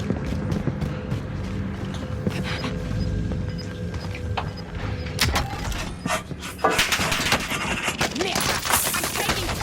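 Gunfire rings out in the video game Warzone, scattered shots and bursts cracking over background game noise, growing denser and louder toward the end, with occasional quiet talk.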